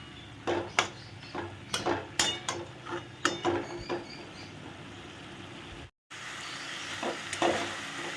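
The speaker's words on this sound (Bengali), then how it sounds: "তো এইটা জাস্ট এর উপর দিয়ে ছিটিয়ে নেড়ে দেবো" Greens stirred in a pan after a sprinkle of poppy seeds, with a series of sharp spatula scrapes and taps against the pan over a faint sizzle, followed by a brief break and softer stirring.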